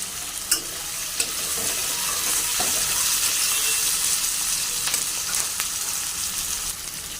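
A large tomato tossed into a hot pan of frying chilli paneer and soybean sizzles steadily, with a few sharp clinks of a spatula against the pan near the start and stirring scrapes over the hiss.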